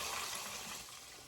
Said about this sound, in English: Okay, so now we're going to add our broth.